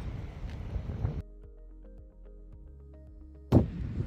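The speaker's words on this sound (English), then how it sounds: "Woo-wee, it's really windy." Strong desert storm wind buffets the microphone in low, rumbling gusts, easing briefly in the middle before a sudden hard blast returns.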